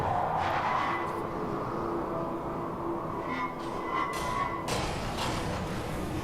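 A car drives and skids in the Portal 2 video game, a loud, continuous engine roar with tire squeal swelling and fading over several seconds, no one talking.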